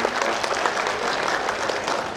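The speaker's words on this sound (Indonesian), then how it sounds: "Mohon tepuk tangan." Steady, dense applause from parents and guests in a hall at the STMIK Mahakarya 2016 graduation ceremony, even clapping throughout with no voices breaking through.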